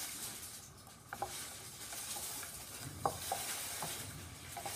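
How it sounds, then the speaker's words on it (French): Porridge for a baby being stirred in a pot, a soft repeated scraping and swishing with a few light clicks against the pot, close and fairly quiet with no talking. "n'arrêtez pas de remuer"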